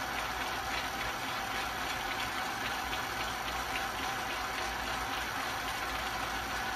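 A cylinder boring machine cuts into a V8 engine block, giving a steady, dense mechanical whir and grind that runs evenly throughout at close range, with no voice.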